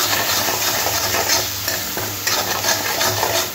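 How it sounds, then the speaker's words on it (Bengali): Salt being stirred into a sizzling tomato masala for Bengali rohu fish curry, a spoon scraping steadily through the frying paste in a pan, close and continuous with no talking. "নুনটাও ভালো করে মিশিয়ে নিতে হবে।"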